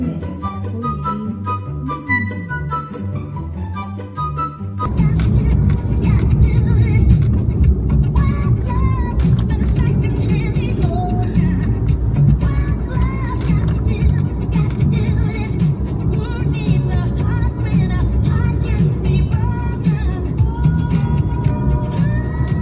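A car is driving, heard from inside the cabin, as a steady loud road and engine rumble that comes in after a short stretch of music and carries on under music playing in the car.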